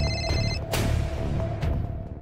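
A telephone rings in a Punjabi TV drama scene, with a few short electronic ringtone bursts near the start over a steady indoor background hum, and no one speaking.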